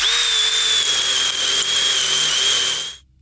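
Power drill boring a larger hole during a brake job, a loud, close, high steady whine running without a break for about three seconds before the trigger is released and it stops abruptly, with no talk.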